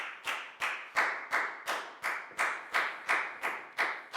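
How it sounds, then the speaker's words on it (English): A classroom of students gives a short, regular round of applause during a Year 4 maths lesson, about a dozen evenly spaced claps ringing out clearly and close. "Big round of applause for Nadia,"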